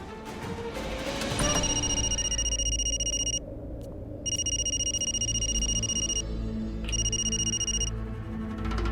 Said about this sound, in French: Je vais l'appeler sur le téléphone fixe.